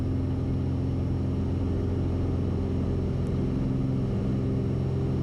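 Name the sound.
light aircraft engine at full power during takeoff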